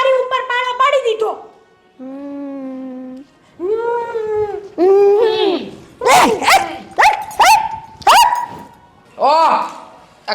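In a Gujarati family drama, a person imitates a dog with a run of loud, close yips, barks and whimpering howls, each bark short and voiced with pauses between bursts.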